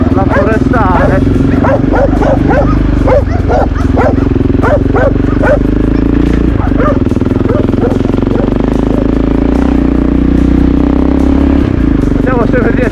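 A dog barks repeatedly in short bursts beside a loud, droning motorcycle engine on a rural gravel road in Sardinia, the engine dominating throughout while the barks sit on top.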